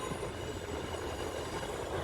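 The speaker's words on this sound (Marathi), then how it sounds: "बघा मेट्रो आलेली आहे मेट्रो चाललेली आहे" A Pune metro train rolls past at a moderate distance, giving a continuous low rumble and rail hum with no voices over it.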